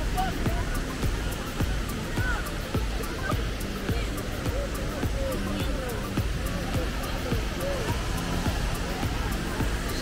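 Miracle fountain in Genoa pumping large volumes of water, a constant broad rushing splash holding steady throughout, with voices and bustle from the square underneath.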